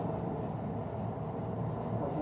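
Steady, continuous rasping of a sanding block worked back and forth over a car's front fender in a heated body shop, close and even throughout with no talk.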